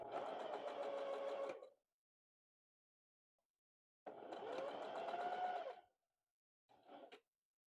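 A sewing machine stitches quilt block seams in three separate runs, two long steady whirring bursts and a short final one, with silent pauses between them.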